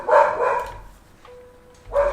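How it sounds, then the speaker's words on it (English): A dog barks twice, fairly close and alone, with a quiet gap between a short burst of yelps and a final bark. "Shut up, dog."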